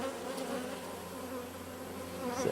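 Agitated honeybees swarm around a top bar hive in a bee yard, a dense, steady buzzing drone that stays close and loud throughout, with no talking.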